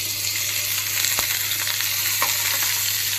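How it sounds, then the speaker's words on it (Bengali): Chopped onion frying in oil in a cooking pot, a steady close sizzle that holds at an even level throughout with faint crackles, and no talking. "এখন এই একই পাতিলে আমি রান্না করব দিয়ে দিচ্ছি পেঁয়াজ কুচি"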